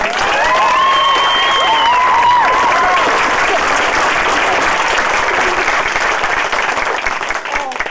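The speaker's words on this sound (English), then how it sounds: "each and every one of you, big round of applause for your song." An audience claps loudly and continuously after children's singing in a Sound of Music stage show, a thick, even wash of applause lasting the whole stretch, with a few sung or spoken voice tones rising over the start.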